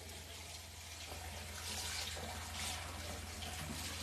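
Tap water runs steadily into a sink while turkey necks are washed under it. The splashing stays close and constant, with a soft rise and fall as the necks are handled and a low hum underneath.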